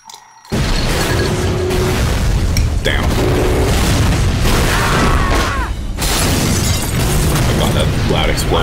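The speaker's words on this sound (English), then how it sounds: "Right, the bomb was going off." A loud bomb explosion in an SFM animation, a sustained, dense roar of blast and debris that starts abruptly after a brief near-silence and stays heavy throughout, with a short dip partway through.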